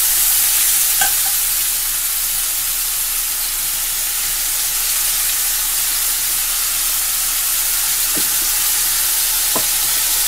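Tilapia fish curry with carrot stirred and frying in a pan: a steady broadband sizzle throughout, with a few faint clinks of a spoon against the pan, no voices.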